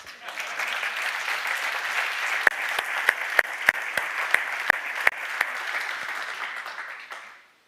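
An audience at a FIAT event applauds the Fiat 600 and Fiat Topolino names with sustained, even clapping, punctuated by a few sharp, louder individual claps in the middle, before fading out at the end.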